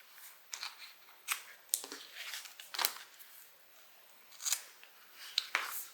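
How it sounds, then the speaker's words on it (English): Scissors cut fabric pattern pieces apart, making a string of crisp, close snips in an irregular rhythm against a quiet background. "Let's just go ahead and cut these apart."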